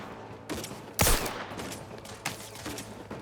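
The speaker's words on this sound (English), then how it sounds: "Shoot robots with electric bullets" Electric-bullet gunfire from The Outer Worlds 2, several sharp crackling shots with one loud burst among quieter bursts, scattered over a steady game-background hum.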